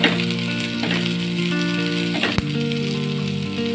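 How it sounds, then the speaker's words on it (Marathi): Onion and capsicum sautéing in a pan over medium heat for veg manchurian, a steady close sizzle with scraping and a single sharp utensil knock partway through. "याच्यामध्ये आपण सिमला मिरची टाकून घेऊया. आता 2 मिनिट आपण परतून घेऊया."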